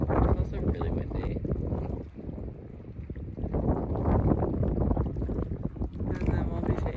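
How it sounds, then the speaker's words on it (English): Strong wind gusts across the shore of Ptarmigan Lake in Glacier National Park, a loud, continuous roaring buffet against the microphone that dips briefly and then surges again. "It was also really windy"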